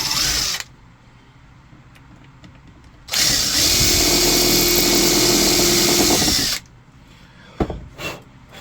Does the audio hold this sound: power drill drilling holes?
yes